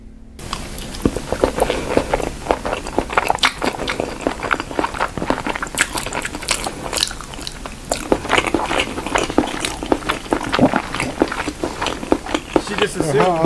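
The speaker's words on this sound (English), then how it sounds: "How al dente is that fucking spaghetti that she's got to chew it that much?" Someone chewing al dente spaghetti at length, with steady wet biting and mastication clicks through the whole stretch, close and fairly loud, overlaid with bursts of talk or laughter.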